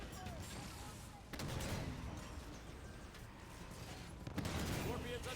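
Sustained gunfire and heavy combat noise from a Halo game battle involving a Scorpion tank, rolling bursts and thumps that swell in two louder surges, fairly quiet overall with a voice speaking over it.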